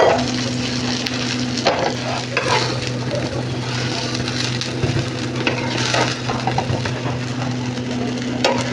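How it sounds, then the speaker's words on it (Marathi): An uttapa made from idli batter sizzles on a hot pan as oil is drizzled over it, a loud, continuous close frying crackle with a steady hum beneath and occasional sharper spits, no voices. "पुन्हा एकदा ह्याच्यावर थोडंसं तेल सोडू"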